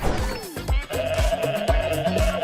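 A goat in Goat Simulator bleats loudly and close in a run of harsh, wavering cries that fill the whole clip.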